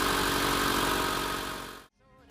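The 2.0-liter four-cylinder engine of a 2015 Mitsubishi Lancer ES idling, a steady close hum that fades and cuts off, followed by a brief faint voice.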